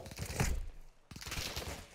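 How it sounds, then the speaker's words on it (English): Distant gunfire in the multiplayer shooter game DMZ: a cluster of faint, muffled shots with broken rhythm, far off, heard with no talk. "We do hear gunshots off into the distance."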